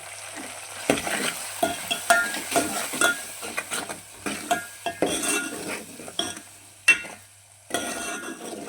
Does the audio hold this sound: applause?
no